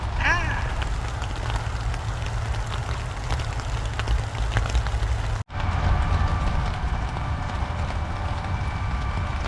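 Steady heavy rain drums on a tent during an overnight camp behind an abandoned hotel, a dense, constant patter that briefly cuts out midway before resuming just as loud.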